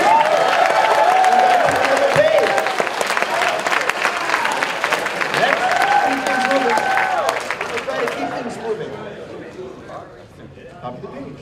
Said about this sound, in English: A round of applause and then move on.